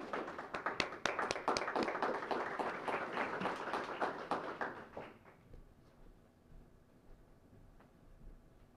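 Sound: audience applause for award winners

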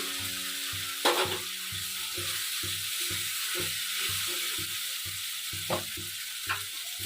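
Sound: spice paste and potatoes frying and being stirred

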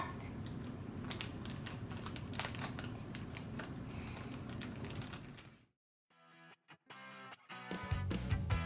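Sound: scissors cutting

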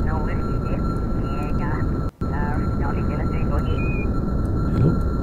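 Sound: rocket engines throttling up in Kerbal Space Program video game

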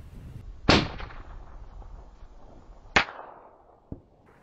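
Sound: 30-06 rifle gunshot at distant target

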